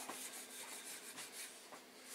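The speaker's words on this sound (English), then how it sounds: "you end up sanding it with steel wool." Quiet, rhythmic rubbing strokes of steel wool sanding repeat steadily at close range with no voices.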